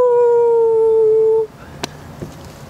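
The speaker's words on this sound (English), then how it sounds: "I can use Mickey's howls as the beat drop" A dog lets out a single loud, close, drawn-out howl that breaks off abruptly partway through, leaving quiet room noise and a couple of faint knocks.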